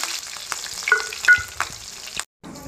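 Cumin seeds and green chilies frying in hot oil for a tempering, crackling and sizzling up close with a few sharp pops and stirring clicks, briefly cut off before the sizzle returns.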